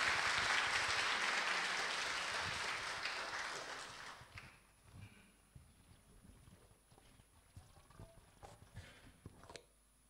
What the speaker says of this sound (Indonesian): marilah kita sambut dengan tepuk tangan yang meriah Dr. Joseph Ferry Susanto